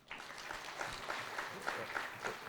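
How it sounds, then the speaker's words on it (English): Audience clapping at a Kenyan national executive retreat in Naivasha, a steady, fairly quiet patter of applause with a few sharper claps standing out, heard from a distance for a couple of seconds. "Don't be shy to clap, because it's the truth."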